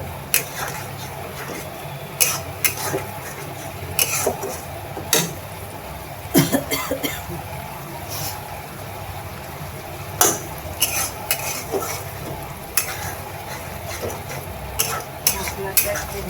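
Spice paste for a vegetarian mixed-vegetable curry fries softly in a pan with a faint steady sizzle, punctuated by repeated scraping knocks of a spoon stirring against the metal.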